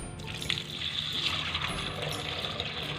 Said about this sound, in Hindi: अब खुले पानी से मैं इसको धो रही हूँ, ताकि ये जितना भी खून निकला हुआ है ये सारा निकल जाए।